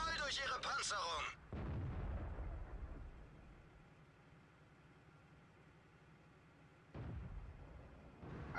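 Tank cannon fire in World of Tanks, with a Type 5 Chi-Ri, booms in a loud blast at the start and another heavy report near the end, separated by low rumbling engine noise and some speech.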